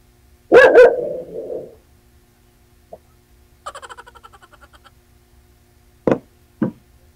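A dog barking at the thought of someone outside: a loud bark with a trailing growl, a faint knock, a rapid series of quieter sounds, then two more sharp barks, all close with no talk.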